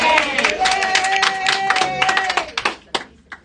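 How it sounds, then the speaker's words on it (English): A town hall audience with Senator Roger Marshall claps and cheers, a dense burst of applause and shouting that thins into scattered claps toward the end, with voices speaking over it. "So this is what I'm trying to avoid is the cheering"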